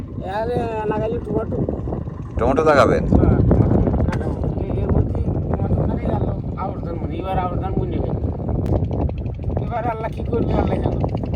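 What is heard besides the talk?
wind blowing outdoors on a river char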